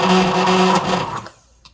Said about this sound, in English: Just give it a little blend with the immersion blender.